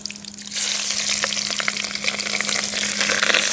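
Mustard seeds, fenugreek, cumin and green chillies fry in hot oil for a fish curry, starting quietly and then bursting into a loud, constant close sizzle with crackling pops and a low steady hum underneath.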